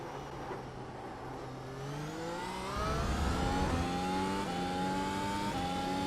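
A Mercedes F1 car engine in iRacing revs and climbs through the gears, a loud, smooth rising whine with gear-change steps and a steady mechanical roar, no voices.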